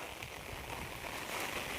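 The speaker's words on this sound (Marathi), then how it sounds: "पाऊस वाढलेला आहे" Steady rain patters on a village path beside fields, a dense even hiss with faint crackling drops throughout, no voices.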